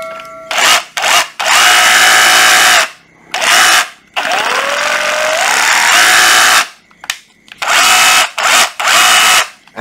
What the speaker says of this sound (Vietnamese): Nghe tiếng motor nó xuống chưa?